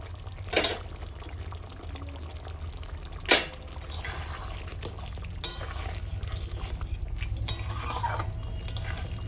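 A spatula stirs simlu-kanta fish curry with green chilies in a pan, soft scraping and wet bubbling over a low hum, with a few sharp clinks of metal against the pan.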